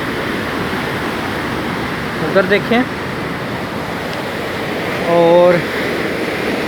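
Strong flow of water in the wide Lalyani canal near Mustafabad, a steady loud rushing roar throughout, with someone briefly speaking over it.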